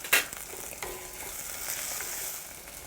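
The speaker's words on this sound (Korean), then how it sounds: "여기에 다진 마늘을 넣고 향을 조금 내주고요" Minced garlic sizzles in a hot pan for a beef curry, with a steady close crackle. A short scrape of a spatula stirring comes near the start, and no voice is heard.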